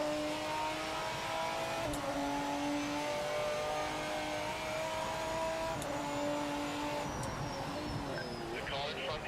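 Racing cars in the Project Motor Racing game, engines droning steadily with gear-change shifts and occasional revving, one car close with others around it, continuous throughout.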